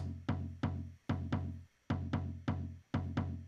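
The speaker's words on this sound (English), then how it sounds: "So I went ahead and I found a good tom drum that I liked." Tom drum hits played in a steady rhythm, eight resonant booming strikes each ringing out before the next, loud and close with no other sounds.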